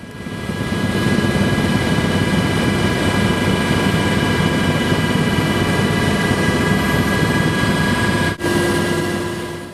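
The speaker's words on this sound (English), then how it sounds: "During the 20-minute chopper ride, France's idyllic fields gave way to a mountainous terrain" Helicopter cabin noise during a twenty-minute flight over French fields and mountains: a loud, steady rotor and engine drone that holds throughout, with a brief dip near the end.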